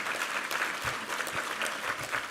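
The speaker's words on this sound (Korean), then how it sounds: "우리 하나님께 감사와 영광의 박수 올려드리겠습니다" A church congregation at a Sunday worship service claps together in a full, steady round of applause, evenly sustained throughout with a few low thumps underneath.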